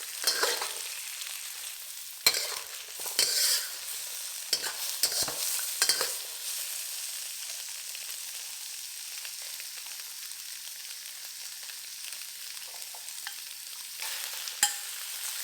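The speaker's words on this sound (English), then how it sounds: "Fry them for about 2 minutes." Carrots and shiitake mushrooms frying in a pan for a pork stir-fry, giving a quiet continuous sizzle broken by several sharp stirring scrapes and clacks, close, with no talking.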